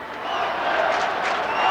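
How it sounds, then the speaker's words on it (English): Hockey fans at a 1988 New Jersey high school state championship game standing and applauding, a broad swelling roar of crowd noise and clapping filling the arena, with an announcer talking over it. "St. Joe's fans standing and applauding"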